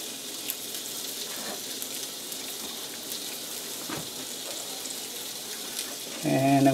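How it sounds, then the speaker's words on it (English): Pan-seared tuna sizzles in melted butter, a steady close hiss that runs unbroken for the whole stretch before a brief, louder clatter near the end. "You can hear the tuna sizzling away."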